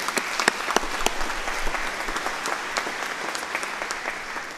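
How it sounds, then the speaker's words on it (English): An audience at a graduate convocation claps steadily, many hands producing crisp, scattered slaps that stay strong and slowly thin toward the end. "Round of applause, please."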